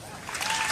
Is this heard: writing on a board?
no